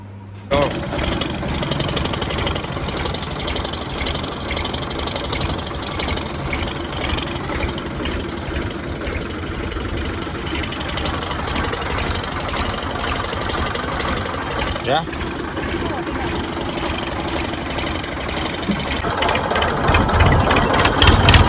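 A tractor engine running on the way to a farm to spray trees, with a steady knocking rumble that builds toward the end, continuous throughout with faint voices underneath.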